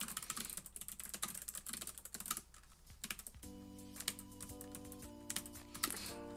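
Someone types quickly on a computer keyboard while writing up a math problem, producing a fairly quiet patter of rapid key clicks that thins out midway as a steady electronic hum comes in.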